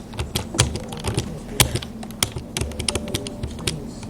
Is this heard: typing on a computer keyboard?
yes